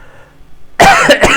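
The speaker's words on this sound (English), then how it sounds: "I won't stop coughing" A short burst of harsh coughing, two or three close, loud coughs after a quiet start.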